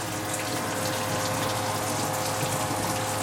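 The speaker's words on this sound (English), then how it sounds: "we're going to be pouring it in to the pan" Thick fudge mixture pours steadily into a pan, giving a continuous close, wet, gushing flow that holds at an even level with no talk over it.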